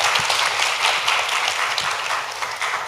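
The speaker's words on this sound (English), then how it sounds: "Let's give them a round of applause." Audience applause at a secondary school spelling bee competition, a steady wash of many hands clapping close by, continuous and fairly loud throughout.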